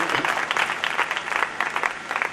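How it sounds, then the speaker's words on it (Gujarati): Audience applause at a Swaminarayan temple katha in Lunwada, a steady wash of many hands clapping close by, filling the whole short stretch without voices. "એવા યજમાન પરિવાર, મહેતા પરિવાર મુંબઈના, તેઓને પણ આપણે જોરદાર તાળીઓના નાદથી અત્રે વધાવીશું."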